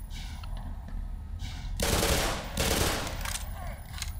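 Gunfire in the video game Black Mesa: loud bursts of rapid shooting, the heaviest in two strong volleys in the middle, over a low rumble of game ambience.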